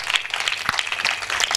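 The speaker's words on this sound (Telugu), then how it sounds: "కొట్టండి చప్పట్లు గట్టిగా." A church audience claps in a brief burst of quick, scattered applause.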